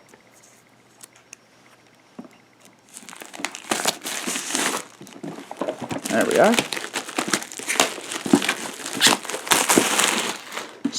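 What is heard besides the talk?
cutting open a plastic-wrapped board game package with scissors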